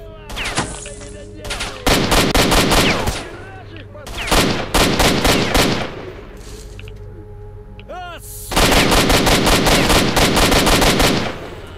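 Bursts of rapid rifle fire in the shooter game S.T.A.L.K.E.R. Shadow of Chernobyl, loud and close, in several long automatic volleys with short gaps between them.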